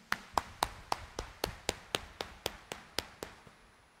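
About a dozen sharp claps from a church congregation at an early-morning Mass, in a steady, even rhythm, crisp and close, with no voices.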